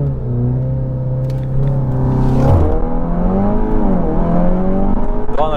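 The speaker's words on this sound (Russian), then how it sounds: "Зажимаю тормоз, газ, немного жду и стартуем." Audi TT 8S 2.0 TFSI Stage 1.5 launching from standstill in Sport mode, engine holding revs then surging with rising pitch through quick gear changes, loud and close, no talk.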